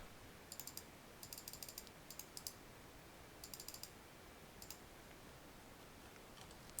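Keys on a computer keyboard typed in several short bursts of rapid light clicks with pauses between, faint and close against a quiet steady background hiss.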